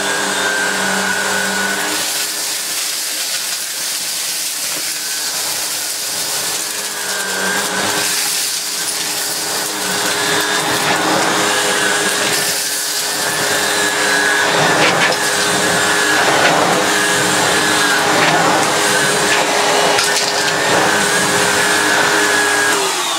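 Vacuum cleaner running continuously on its medium carpet setting, a loud, steady whine and rushing airflow close by throughout.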